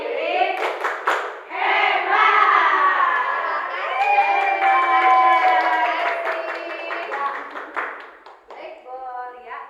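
Group clapping chant in a classroom, voices chanting together in rhythm with quick bursts of hand claps at the start and scattered claps between the chanted phrases.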